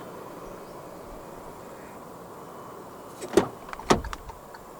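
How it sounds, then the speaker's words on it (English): A 2024 Proton X50 1.5T Executive locks with two short, sharp mechanical clunks from the door latches about half a second apart, heard up close over a quiet background of faint insect chirring. "To lock the car, press the ribbed area on any of the front door handles"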